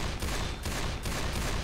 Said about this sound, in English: I'll keep safe firing, you know,